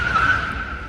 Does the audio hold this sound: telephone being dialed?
no